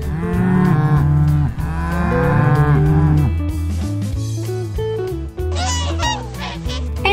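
A Playmobil toy calf gives a few drawn-out, tonal moos, one after another, loud and close with no talking.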